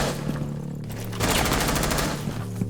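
Gunfire in Rainbow Six Siege, fired to open a small hole, sounds as a dense burst of rapid shots that swells partway through. It sits over a constant low game hum, loud and close.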